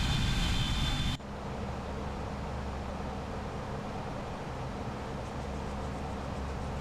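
An airliner in the X-Plane 11 flight simulator takes off from runway 04 at Geneva; a loud, steady broadband engine roar with low rumble continues throughout after a brief louder burst at the start, with no talking.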